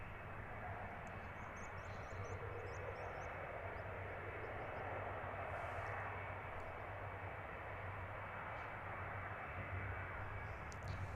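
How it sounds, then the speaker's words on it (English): A Silkway aircraft taxiing slowly at Stansted Airport gives a steady, distant engine drone that holds evenly throughout with no other distinct events. "Silkway on slow taxi to let the Ryanair out in front of it."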